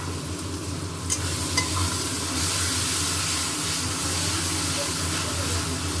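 Red chilli, chicken masala, salt and turmeric sautéing in oil in a pan, a continuous close sizzle with a couple of sharp stirring clicks.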